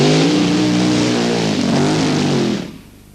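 A 3,000 horsepower racing vehicle at a 1989 power sports festival at Aintree roars past with a loud, harmonic engine howl that shifts in pitch, then quickly fades into the distance.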